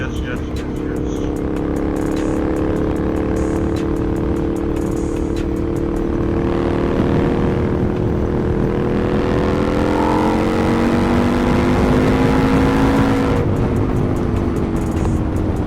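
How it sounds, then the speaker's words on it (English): A full-carbon Husqvarna Nuda 900R motorcycle accelerates hard on a fast ride through Amsterdam, its loud engine tone climbing steadily under heavy wind rush, heard from the rider's position. "I forgot how fast this bike accelerates"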